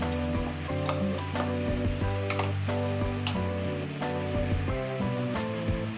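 Spoon stirring a pot of Japanese soup stock flavoured with bonito or seaweed powder for chikuzen-ni, with a steady scraping and faint sizzle running throughout, repeated sharp clinks, and no one talking.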